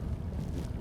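Strong wind buffets the microphone on a lake during a perch fishing outing, a loud continuous low rumble with no speech.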